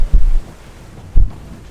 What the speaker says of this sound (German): Es ist wirklich abnormal windig.